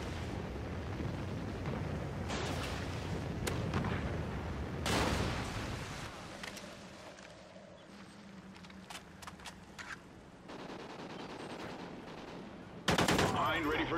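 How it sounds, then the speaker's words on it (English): A Trinity rocket killstreak strike lands in Call of Duty Ghosts: heavy bursts of gunfire and explosive booms over game noise, quieting midway, then a sharp loud impact near the end, with game radio voices at times. "Friendly Trinity rocket inbound."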